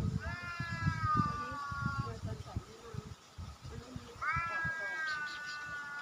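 A pet cat wearing a collar meows in two long, drawn-out cries, one early and one near the end, close and clear over low rumbling background noise.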